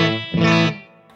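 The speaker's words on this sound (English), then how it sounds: "That's the sound of just a guitar and amp." A distorted electric guitar chord played straight into the amp with true bypass switching rings out, swells and changes in a brief strum, then decays into a quieter tail with a slight pick noise.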